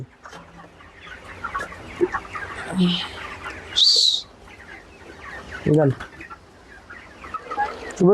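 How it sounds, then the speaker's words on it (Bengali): Chickens cluck and squawk close by as they are given feed, amid steady background chatter, with a sharp high squawk partway through. "সব মুরগিগুলো সেন্ট পাওয়ার সাথে সাথে কিভাবে এসে গেছে মুরগিগুলো"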